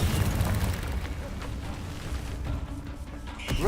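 Confringo fire-spell blasts in Hogwarts Legacy, dense booming explosion noise that is loudest at the start and rumbles on, with a sharper burst near the end and faint voices in the mix.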